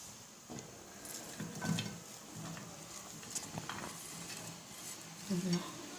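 Onions fry quietly in a pan while a utensil stirs them, giving faint soft scrapes and light clinks over a low sizzle, close but subdued.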